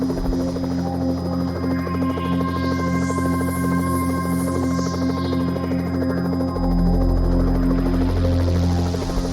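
South Yorkshire police helicopter in flight, heard from inside as a steady loud rotor and turbine drone with tonal hum, deepening into a heavier low rumble near the end, no voices.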